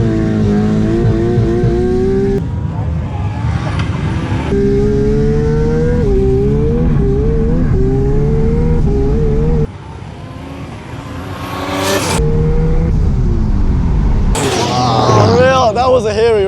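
Race cars in a Queensland roll racing event roar loudly and close, engines climbing through gear changes and revving hard, with a brief dip partway through before the noise surges again.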